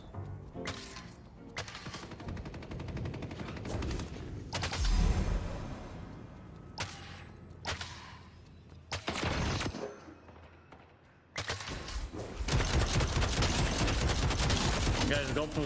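Repeated bursts of gunfire from the player's gun in the video game Deadlock, loud and close, with sustained volleys broken by brief pauses amid game effects.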